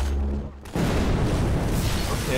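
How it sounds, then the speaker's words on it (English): Explosion in the video game Half-Life 2: Episode One, a sudden loud boom breaking in after a low hum and rolling into a sustained roar of rumbling debris, close and full. "Okay, well something explodes here."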